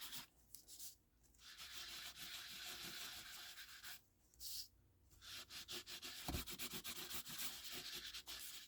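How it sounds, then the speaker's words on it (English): Antique Linen ink rubbed onto a paper journal card, soft scratchy rubbing strokes in repeated short passes, faint and close, with pauses between bursts. "I did this one by just rubbing the antique linen over it"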